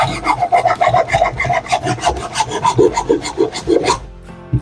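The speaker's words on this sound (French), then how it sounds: "Après, je prends une petite lime à acier, beaucoup plus douce. Et regarde, donc vous passez dessus." A small, fine steel file rasping over the wood of a sparrow birdhouse: close, repeated scraping strokes in a steady back-and-forth rhythm that ends abruptly.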